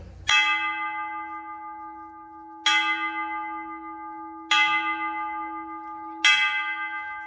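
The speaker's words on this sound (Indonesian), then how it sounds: "selalu kita mendengar lonceng Angelus" An Angelus church bell tolls four times at slow, even intervals, each strike ringing out and fading before the next, clear with no voices.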